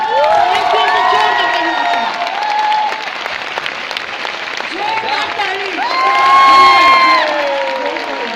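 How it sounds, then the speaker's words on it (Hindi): A standing crowd breaks into loud applause and cheering for those being honoured at a motivational training event, sustained clapping mixed with shouts and whoops, and bright whistle-like calls rising over the din. "सबसे पहले शिव भैया और विपिन भैया और देवेंद्र भैया के लिए जोरदार ताली होना चाहिए।"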